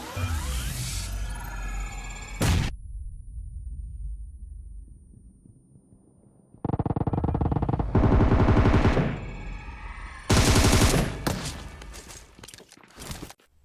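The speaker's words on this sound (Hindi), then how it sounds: "जिस तेजी में गोलियां चल रही थी यहाँ पे, जिस तेजी से शोर हो रहा था" Loud bursts of rapid automatic gunfire in the video game PUBG Mobile come in several volleys, separated by short quiet gaps, with no voices.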